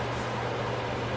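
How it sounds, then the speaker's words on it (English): A Wen air filtration system runs on its low setting, giving a steady, even whoosh of airflow with a faint low hum and no other sounds. "I really like this Wen filtration system. It is super quiet."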